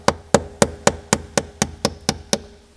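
A sharp pointed pick or chisel tapped against the edge of a Honda Accord ignition lock cylinder, about ten crisp evenly spaced metallic knocks in quick succession, close and loud.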